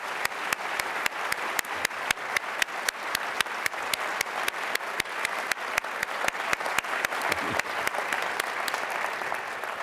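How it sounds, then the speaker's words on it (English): An audience at a panel event claps in a warm, sustained round of applause, a thick wash of hands with sharp individual claps standing out throughout. "Could we have one more round of applause for this remarkable speech?"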